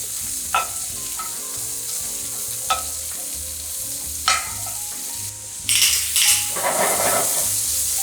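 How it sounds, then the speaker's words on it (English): Butter sizzling loudly in a hot pan with steak and asparagus, a continuous bright frying hiss punctuated by a few clinks of utensils against the pan and a louder surge of spattering near the end. "I'm just gonna add a tablespoon of butter right to it."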